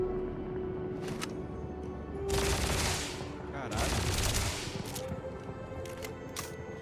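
Weapon gunfire in Starfield, two dense bursts of rapid shots roughly a second long each, loud and close, set between fainter clicks and single reports, with someone talking at times.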